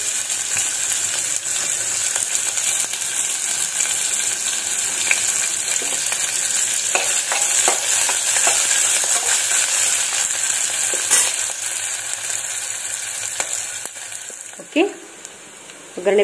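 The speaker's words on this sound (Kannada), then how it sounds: "ಹಾಗೆ ಈರುಳ್ಳಿ ಮತ್ತು ಹಸಿಮೆಣಸಿನ್ಕಾಯಿನ ಹಾಕ್ತಾ ಇದ್ದೀನಿ." Onions and green chillies sizzle loudly in a tempering with browned urad dal, with steady frying hiss and occasional stirring scrapes, fading toward the end with a few clanks.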